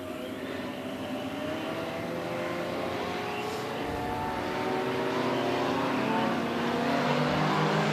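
IMCA Sport Compact race cars, five cars racing a heat at Crawford County Speedway, their engines droning steadily from a distance and slowly growing louder.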